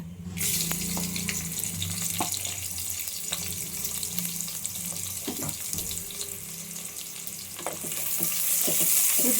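Sliced onions hit hot oil already holding star anise, mace, cinnamon, cloves, bay leaf and stone flower for a mushroom biryani, giving a steady, close, bright sizzle that swells slightly toward the end, with no talking.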